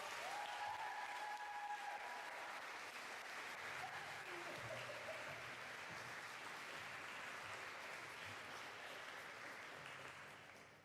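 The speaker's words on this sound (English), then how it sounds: "So we give all a huge round of applause" Sustained applause from an audience at an awards-style training celebration, steady and fairly even for about ten seconds before tapering at the end, with a brief tonal sound early on.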